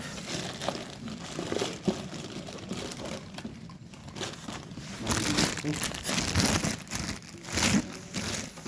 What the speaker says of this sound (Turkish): Paketlerimizi açalım.